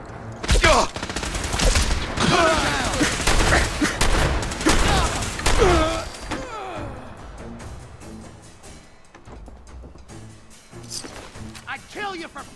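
Frag grenade explosions in Fallout 4 with the Sim Settlements 2 mod, heard as a cluster of loud, repeated booms and crackling bursts during the first six seconds, then quieter scattered pops with voices underneath.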